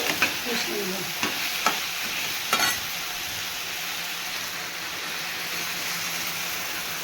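Potatoes, already fried red, being stirred with spices and a bit of water in a pan for a shrimp-paste potato curry: a steady sizzle with several scraping stir strokes, close and moderately loud, no talking.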